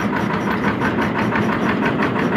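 A steady, loud diesel-type engine runs on a machine fitted with a gearbox and levers, used to pull a 15 HP three-stage submersible borewell pump and motor out of a newly cleaned borewell; the even drone continues throughout without speech.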